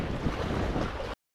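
Strong wind buffets the microphone at the seashore during fishing, a loud low rumbling roar that runs unbroken for just over a second, then cuts out.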